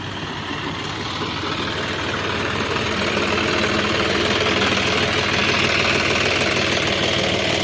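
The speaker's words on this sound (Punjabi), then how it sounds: "ਆ ਗਿਆ ਟਰੈਕਟਰ ਚਲਾ ਰਿਹਾ" A tractor engine driving a spray pump chugs loudly and continuously nearby on a farm, a heavy knocking rumble that swells slightly after the first couple of seconds and then holds steady.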